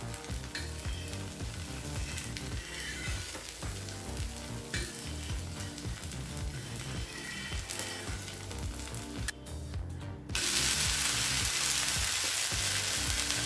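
A ragi rava dosa sizzles in oil on a hot pan after flipping, giving a continuous crackling hiss with scattered pops that suddenly swells to a louder, brighter sizzle near the end, with no talk.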